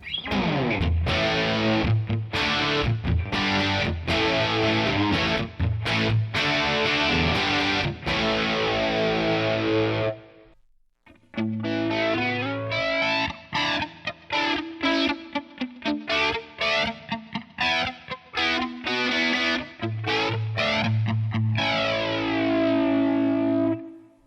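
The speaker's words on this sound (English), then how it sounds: "I'm just gonna play some sounds where I have the Tonex as the amp modeler going into" Distorted electric guitar through a TONEX One amp modeler into NAM effects, playing riffs and chords with heavy effects, a brief pause midway, then cleaner ringing notes with modulation, loud and continuous.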